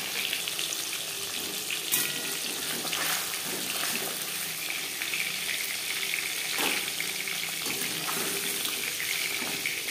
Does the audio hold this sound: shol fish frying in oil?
yes